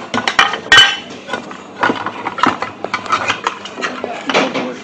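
The top cover of a KBM12-1000 1000W power inverter is fitted on by hand, giving a run of close metallic clinks, taps and clattering knocks.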